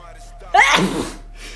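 A single sharp sneeze bursts out close to a headset microphone during a team shooter match, followed by a brief quiet breath.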